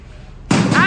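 A pool table in a holiday lodge in Cameron Highlands, Malaysia: after a quiet stretch, a single sharp, close clack of balls colliding rings out, followed by a brief rattling tail.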